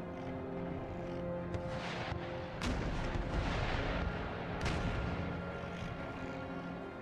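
Mortar and artillery fire in Empire Total War rumbles as a dense, continuous barrage of booms, with heavier blasts standing out near the middle and a steady battlefield drone underneath throughout.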